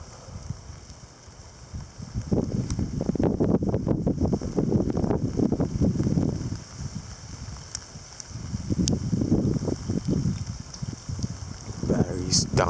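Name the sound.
gusty wind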